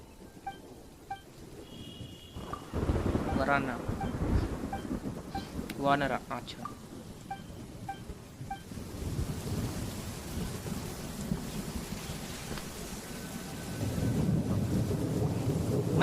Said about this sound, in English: stroll in the middle of a downpour